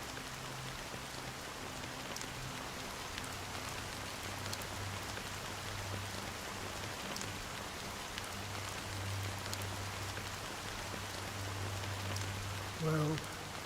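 Steady rain pours down in a Honkai Star Rail scene, a dense continuous patter with faint low tonal music beneath and a brief thump near the end.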